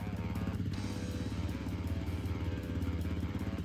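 A Honda CRF 300L dual sport motorcycle engine runs loud and close with a steady, throbbing low idle pulse and no talk over it.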